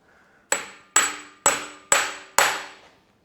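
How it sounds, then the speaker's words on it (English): Five sharp metallic hammer blows driving a greased bearing on with a bushing tool during a BMW E91 rebuild, steady rhythm, each ringing briefly before the next, close and loud with no talking. "Then you hammer it on until the sound changes and it becomes a high-pitched sound"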